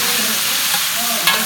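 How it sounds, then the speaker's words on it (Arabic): Onion dropped into hot oil in a pot for Iraqi lentil soup, a steady broadband sizzle with a brief louder burst near the end, no voices. "هسا حطينا الزيت، هسا نحط البصل"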